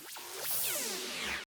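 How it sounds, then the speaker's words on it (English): Laser effects in a melodic dubstep build-up sweep and zap in a rapid descending, wobbling high-pitched tone, sustained for over a second before stopping sharply, fairly quiet with no voices. "Lasers."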